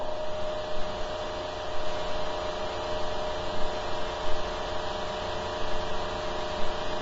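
Electric motor driven by a phase-delayed triac circuit with a custom laminated shim toroid, giving a steady continuous hum and whine as its speed climbs, with faint periodic swells, no talking.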